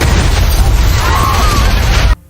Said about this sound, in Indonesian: di saat itulah muncul sebuah ledakan yang sangat besar di belakang mereka